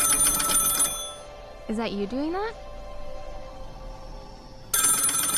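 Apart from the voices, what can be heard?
telephone ringing in a video game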